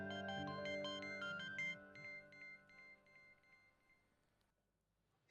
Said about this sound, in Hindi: साकिब इस वक्त क्यों फोन कर रहा है?